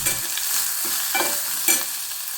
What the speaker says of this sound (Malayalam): ഈ മുരിങ്ങയില നമുക്കൊന്ന് പതുക്കെ വാട്ടിയെടുക്കാം